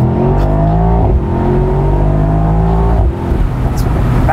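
Mercedes-AMG SL63 engine and exhaust revving loudly and close, a deep throaty roar rising and falling in pitch through a couple of throttle sweeps with a brief dip between them.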